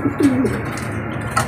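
A pigeon coos in a few soft, low notes near the start, with faint background noise and a brief higher chirp toward the end.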